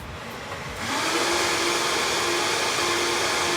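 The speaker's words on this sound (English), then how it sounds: "I'm gonna Vitamix the shit out of this part" A Vitamix blender purees a sauce, starting with a quieter whir and then rising into a loud, steady, roaring drone that continues without pause, with no speech.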